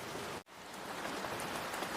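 Steady rain falls in a dense, even hiss of drops on surfaces, continuous and close, broken only by a split-second dropout near the start.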